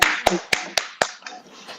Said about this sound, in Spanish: con los aplausos de emojis y con los aplausos reales.